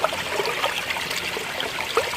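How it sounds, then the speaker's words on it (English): A cold, clear river stream rushes and trickles steadily close by, a continuous bright wash of flowing water with small splashy bursts and no voices. "Go down and fill it up right in the stream."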